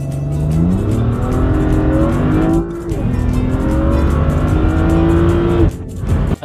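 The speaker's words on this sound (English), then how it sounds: "Now let's do a straight line acceleration." A 2010 BMW E89 Z4 with the N54 engine accelerating hard in a straight line, its loud engine note climbing through the revs with brief dips at each gear change, close and with no talking.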